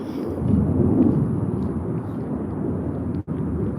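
A loud airplane flying overhead produces a heavy, low rumbling roar that swells early and holds steady for several seconds, with a brief dropout near the end.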